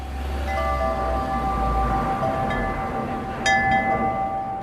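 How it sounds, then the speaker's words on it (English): Wind chimes at a small Buddhist temple garden ring out as soft, sustained metallic tones, with a brighter cluster of strikes near the end, over a low rumbling background with no one talking. "that's why you probably can hear the wind chimes behind me"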